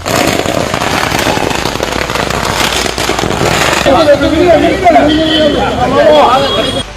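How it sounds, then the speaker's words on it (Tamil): Firecrackers bursting at a political celebration where supporters garlanded a statue, with dense crackling pops throughout amid crowd noise and voices talking. "மேலும் பட்டாசுகள் வெடித்து கொண்டாடினர்."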